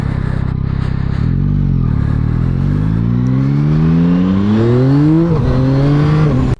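A 2024 Yamaha MT-09 SP motorcycle engine roars loudly and steadily while wheelieing, its pitch climbing through repeated throttle surges before a sharp dip and recovery near the end, with no talk.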